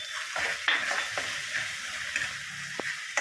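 Poppy seed paste with a little water and about two spoons of yogurt sizzling softly in a pan while a spoon stirs and scrapes it, with a few light clinks against the pan and no talking.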